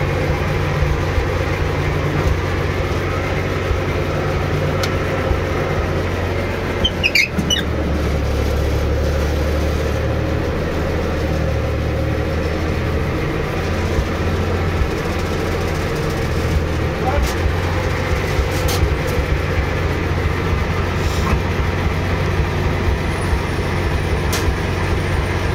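A vehicle powered by a YaMZ 7511 diesel engine reverses, its steady heavy idle rumble continuous and close, with a brief clatter partway through; people talk nearby over the engine.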